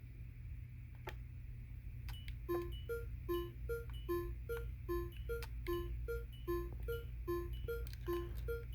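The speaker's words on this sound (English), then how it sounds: "Now the severe weather alarm." A severe weather alarm in Minecraft sounds as a rapid series of repeated electronic tones over a steady low hum, starting after a couple of isolated clicks.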